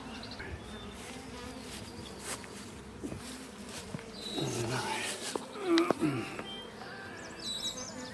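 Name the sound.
honey bees buzzing around hive boxes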